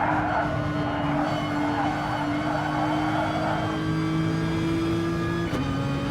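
Group B and Group 4 race cars in a racing video game roar together at steady high revs, a sustained engine whine with layered exhaust tones and a brief tonal dip near the end as one shifts.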